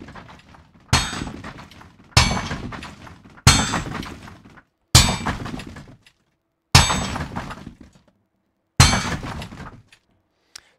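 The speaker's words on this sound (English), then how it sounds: "This is the sound of this hammer hitting this thing," Six separate hammer strikes in a game-engine sound cue, each a sharp loud crack with a glassy, breaking edge that decays quickly, spaced about one to two seconds apart with silence between hits.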